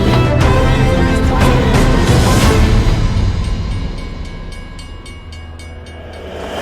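A train passes nearby over a bridge in Sri Lanka with a heavy rumble and clattering wheels that fade gradually, followed by a run of rhythmic clicks as the cars roll away.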